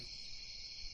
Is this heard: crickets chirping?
yes